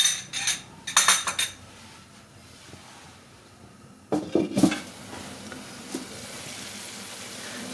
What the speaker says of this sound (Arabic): وغادي ندير البصله، وغادي نخليها حتى كتشحر لينا، تهبط لينا، تدبل لينا